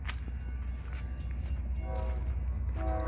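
An FEC freight train led by locomotive #823 rolls past close by with a steady low rumble, and its horn sounds in a few short blasts near the end.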